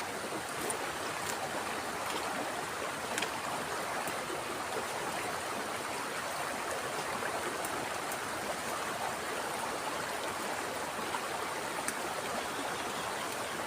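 A small creek flows steadily in a continuous, close, even rush and burble of water. No voices are heard over it.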